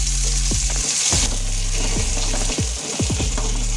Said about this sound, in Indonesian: kalau sudah layu seperti ini, kita masukin cabai dan bawang merah